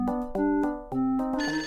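A telephone rings in the video game Eagle Eye Mysteries in London, giving a short burst of repeated electronic tones that sounds clear and alone.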